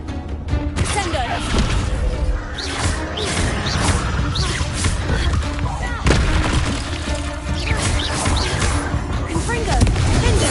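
Repeated blasting explosions from fire spells in the game Hogwarts Legacy, loud booms and crashes with whooshes following one another in quick succession, layered with dense action sound and some voices.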